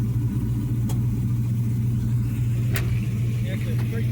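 A truck engine with a hood scoop runs steadily at an outdoor car show, a loud low rumble that holds even throughout, with people chatting nearby.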